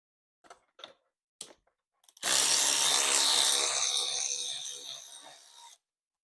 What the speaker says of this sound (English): what I like to use is my extended ratchet, and this should do the job